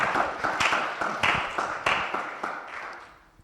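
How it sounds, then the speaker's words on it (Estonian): Small audience applause at a municipal vision-day event in Kohila, a short run of scattered claps and taps that fades out over a few seconds, no voices. "Tema väärib ka aplausi."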